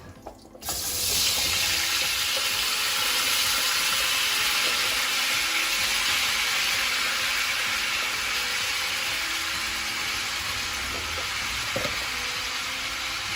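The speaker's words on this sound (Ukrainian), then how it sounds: "тепер висипаємо нашу картоплю" Potatoes tipped into a hot pan of rendered lard break into a loud, steady frying hiss that holds for several seconds with faint scraping and clinks underneath, and no voices.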